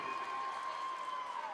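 A rodeo crowd applauds and cheers at a ranch rodeo, a steady, fairly faint wash of clapping and calls with a high tone held over it.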